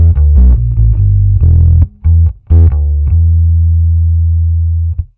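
Buzzy, distorted bass guitar played loud through a Fender Rumble 100 amp with the bass dial turned all the way up, a run of low notes with two brief gaps, then one long sustained note ringing out.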